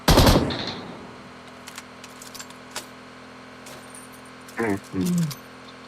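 Automatic gunfire in the BGMI mobile battle-royale game opens as a loud, dense burst, followed by a couple of short, distant pops and scattered game effects, with players' voices nearby.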